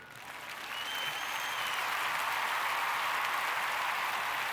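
A crowd of people clapping, starting softer and quickly swelling into steady, dense applause that holds at full strength to the end.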